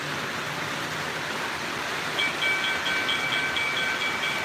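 O gauge model trains running on a home layout, a steady broadband rumble and rolling hiss throughout, with thin high-pitched squeals or whistling tones joining in the second half, no voices.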